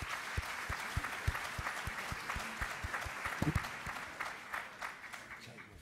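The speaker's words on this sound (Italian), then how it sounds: "invito ad accogliere con un applauso" An audience at an evening event in Padova applauds to welcome a speaker to the stage, steady clapping with a few louder individual claps standing out near the front.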